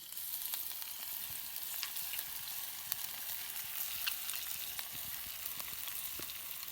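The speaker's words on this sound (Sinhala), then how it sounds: "තෙල් ටික රත් වුණාට පස්සේ තමයි අපි අර මිශ්‍රණය එකතු කරගන්න ඕනේ" A pounded spice mixture frying in hot oil in a pan while dried game meat is cooked, a constant bright sizzle with scattered small pops and crackles, steady throughout with no talking.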